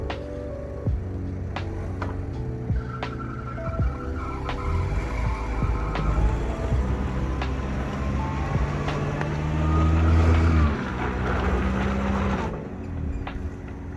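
A high-pitched, buzzy Toyota car engine revs and whines rapidly, sounding sped up like a nitro RC truck, with tire noise and shifting tones throughout, fairly loud and continuous.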